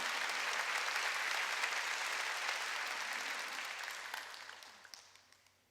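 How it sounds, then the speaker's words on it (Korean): A church congregation at a Sunday worship service breaks into sustained clapping that holds steady for several seconds, then gradually thins and fades away. "박수 쳐줘요."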